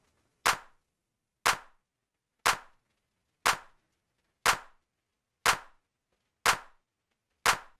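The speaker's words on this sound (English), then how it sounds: "There's some weird stereo in this clap." Eight sharp, punchy clap hits repeat at an even one-per-second pace, each with a short decaying tail and silence between.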